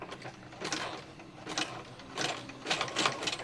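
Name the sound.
sewing machine stitching clothesline fabric bowl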